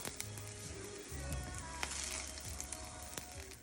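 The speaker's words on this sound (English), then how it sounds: "My oil is hot in here, just vegetable oil, and I'm just gonna char them." Steady sizzling and crackling of onions charring in hot vegetable oil for carne asada tacos, with faint scattered pops and a low hum underneath.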